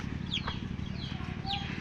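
Backyard chickens cluck softly while feeding, a few short faint calls rising over a low background murmur.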